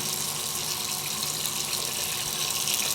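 A tap runs steadily at a sink during hand washing in a Covid-19 consultation centre, a continuous close, full hiss of flowing water with no voices over it.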